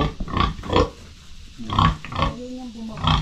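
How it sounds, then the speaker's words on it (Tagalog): A young pig being raised as a breeding sow on a farm gives several short, close grunts in irregular bursts, with quieter gaps between them. "Pakita ko lang yung ano, baboy na si Robert."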